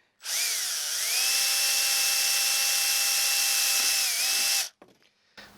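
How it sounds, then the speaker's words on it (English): A power drill bores a hole in plastic, one sustained loud motor whine for about four seconds with a slight pitch dip as it bites, then stops and a few small handling clicks follow. "Just drill a hole right here."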